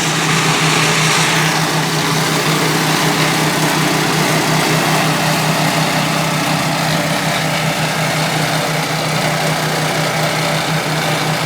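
An Orec tracked flail mower on speed setting 1 cuts through four-foot-thick grass tangled with blackberry and a little Scotch broom. Its loud, constant engine drone and thrashing roar carry on unbroken from start to finish.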